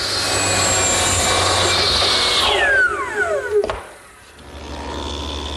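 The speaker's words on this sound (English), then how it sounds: "Here I'm beginning to form the tenons on the ends of the cross piece" A table saw cuts tenons on the ends of a wooden cross piece for a patio garden table: a loud, steady motor whine that winds down sharply partway through, then a softer hum returns.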